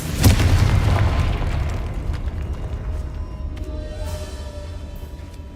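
Confringo fire spell in the Hogwarts Legacy video game, a single loud booming explosion at the start that rolls off into a long fading rumble.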